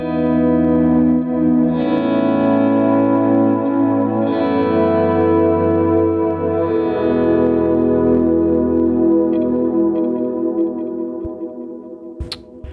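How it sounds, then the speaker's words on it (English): Sustained electric guitar chords ring out, heavily distorted and washed in reverb and echo, holding loud for several seconds before fading with a faint click. "just with a short reverb and a lot of distortion and maybe some delay"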